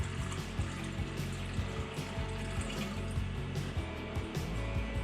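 Water poured from a container into the milk cleaning canister of a Brasilia Festa coffee machine, a continuous close splashing and gurgling stream with uneven glugs throughout.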